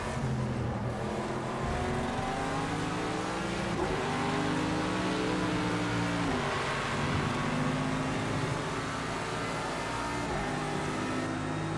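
Race car engine in Project CARS 2 during an endurance race at Silverstone, a continuous droning motor with rising and falling pitch as it shifts through gears, steady and moderately loud throughout with no voices.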